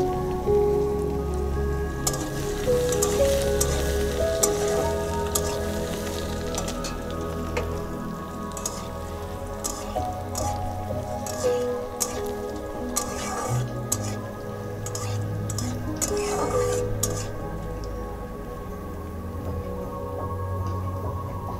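Chopped ginger and garlic sizzle in a pan for a chicken stew, a close, continuous crackle with stirring, while someone talks over it.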